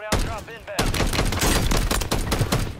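Dense gunfire in Call of Duty Warzone, rapid loud shots packed close together in a continuous fusillade, a voice shouting over the start before the firing takes over.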